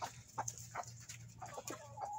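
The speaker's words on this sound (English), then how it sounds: "Chickens." Backyard chickens clucking outdoors on a hot summer day, a few short, scattered calls at moderate distance over a low steady hum.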